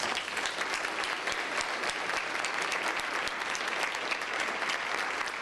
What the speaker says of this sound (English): these two deserve a big thank you and a round of applause